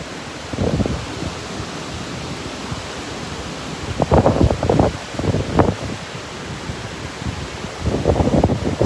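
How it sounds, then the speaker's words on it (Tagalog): Strong seasonal northeast wind at Boracay Newcoast during amihan, a steady broadband rush with louder gusts buffeting the microphone around four to six seconds and again near the end, no voices. "Talagang malakas lang yung hangin dito pag amihan"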